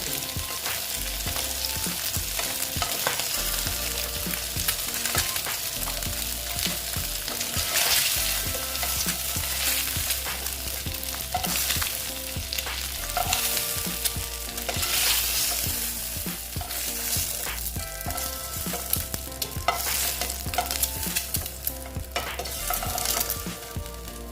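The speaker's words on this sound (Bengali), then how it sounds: "দিয়ে দিলাম একটু ভেজে নেব ভালো মতন" Boiled eggs fry in hot oil in a pan with a dense, bubbling sizzle. Repeated stirring and turning scrapes and knocks sound close up, and no one speaks.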